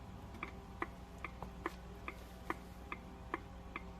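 Steady clicking of a car turn-signal indicator, regular ticks about twice a second, fairly quiet with faint background hum.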